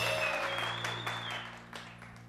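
Faint applause from a TV variety show audience welcoming a song performance, quiet, scattered clapping that gradually fades over a low steady hum.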